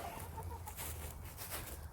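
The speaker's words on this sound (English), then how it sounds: "we will go feed the chickens" Backyard chickens cluck softly in a short, faint stretch of scattered calls over a low background hum, with no voices.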